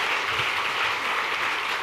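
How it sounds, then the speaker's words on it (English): A conference audience at a CFO panel claps steadily, dense sustained applause with no breaks from start to finish. "can we get a big round of applause for these amazing people?"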